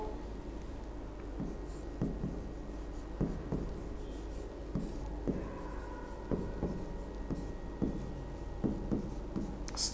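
Chalk or marker writing on a board during a Hindi lesson, a series of short scratchy strokes at irregular intervals over a steady room hiss, close and moderately quiet, no talk.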